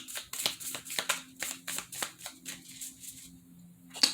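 Tarot cards being shuffled in a quick series of riffling bursts, close and fairly quiet, ending with a single sharp snap.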